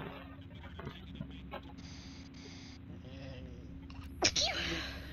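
A sharp sneeze bursts out near the end during Tom Clancy's The Division 2 gameplay, a single loud burst over quiet background game sound.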